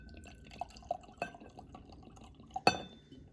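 Long John blended Scotch whisky is poured from the bottle into a glass in a few quiet trickles and drips, with a couple of sharp glassy clinks, the loudest near the end, in an otherwise quiet room.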